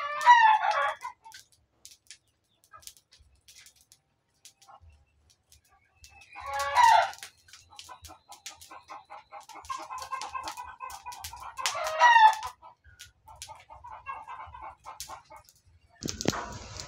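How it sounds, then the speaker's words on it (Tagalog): Roosters crow several times at intervals, with scattered hen clucking in between, fairly close and outdoors with no talking. "Saba ba sa mga manok."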